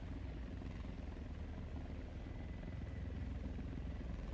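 Helicopter flying in the War Thunder video game, a low, steady rotor drone that sits fairly quiet and unbroken throughout, with no speech.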